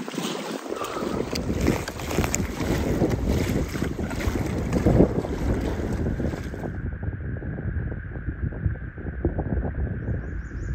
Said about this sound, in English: This wind came out of nowhere. It's a bad headwind for a few miles.